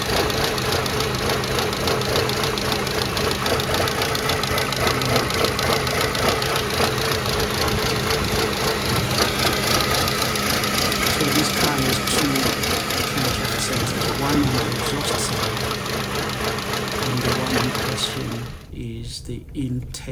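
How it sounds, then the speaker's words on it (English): Mercedes C200 Kompressor engine with a P0016 camshaft sensor fault, running steadily at close range with a busy mechanical clatter and hum that cuts off just before the end. "So now the engine is running."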